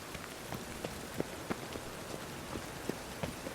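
Steady rain falls in The Witcher III video game, a dense hiss of drops on surfaces with scattered sharper patters and faint hoof-like clops, even and continuous throughout with no talking.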